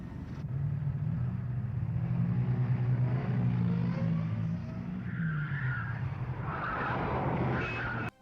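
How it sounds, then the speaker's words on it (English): A car from the Thunderbirds puppet series, Penelope's car, drives with a steady engine drone and a tyre skid sliding through midway, loud and alone without talk, ending abruptly. "if I could have any vehicle in the show, it would be Penelope's car"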